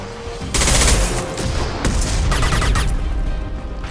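Sustained automatic gunfire in Mass Effect 2, loud and continuous bursts of rapid shots with heavy low booms, filling the whole stretch without voices.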